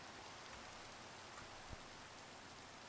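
Steady rain pours in the Minecraft world, a dense, even hiss with a few faint drops or knocks standing out, continuous throughout with no voices.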